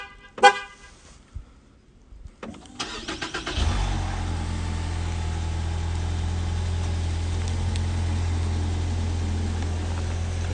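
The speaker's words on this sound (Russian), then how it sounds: "После 3-го нажатия автомобиль должен завестись." A 2016–2018 US-market Ford Fusion sounds a short horn chirp and a few clicks on remote start, then the engine cranks, fires and settles into a steady, even idle close by.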